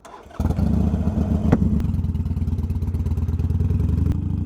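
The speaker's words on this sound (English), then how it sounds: "let's start up the engine and get it going" A motorcycle engine fires up after a brief quiet moment, then settles into a loud, steady, chugging idle with a rapid mechanical pulse.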